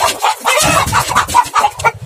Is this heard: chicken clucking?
yes